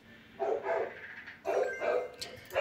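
A dog barks in two short bursts of a few rough woofs each, fairly close and loud, with a brief pause between the bursts.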